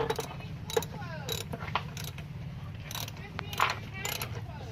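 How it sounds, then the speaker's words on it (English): Bolts are being started by hand on the intake manifold of a 2005–2009 Hyundai Tucson, producing close, quick ratcheting clicks and small metallic rattles in short bursts. "We got the intake on, just starting to get all the bolts, getting all the bolts started."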